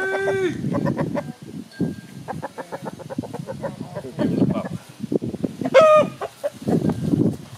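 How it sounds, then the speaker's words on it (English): Chickens cluck and squawk up close as people try to catch them, with one loud rising squawk near the end and people talking throughout. "Who wants a chicken?"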